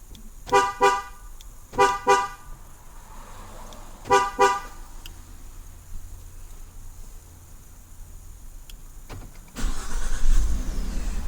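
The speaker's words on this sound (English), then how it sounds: "we're going to activate the remote starter with our 3-press" A 2016 Ford F150 gives three short horn toots in quick bursts as its remote starter activates, followed by a quiet stretch and then the engine turning over and running near at hand.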